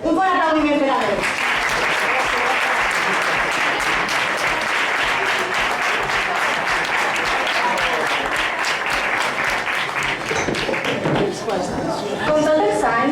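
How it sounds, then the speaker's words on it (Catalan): Audience applause fills a falla casal during a children's president proclamation event, steady and loud for most of the stretch, with people speaking briefly at the start and near the end. "Un bon aplaudiment per a ells."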